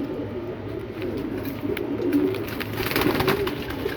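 Pigeons coo softly and repeatedly nearby, a low murmuring burble with faint background noise and no talk.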